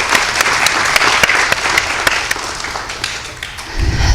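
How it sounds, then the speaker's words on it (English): An audience gives a loud, close round of applause for Adam, an award winner, at a tourism and hospitality careers event, with dense steady clapping that thins toward the end. "So give Adam a round of applause"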